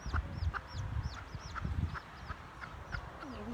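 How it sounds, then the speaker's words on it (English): A bantam rooster and hens cluck softly outdoors at midday in spring, with repeated short calls and faint chirps over a quiet, low background. "we have a bantam rooster who I think is courting a hen"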